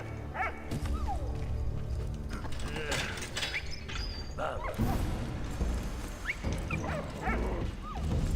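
Scattered dog barks in the video game Valiant Hearts ring out amid busy wartime game sounds, with clattering mechanical noises and hoof-like knocks layered underneath.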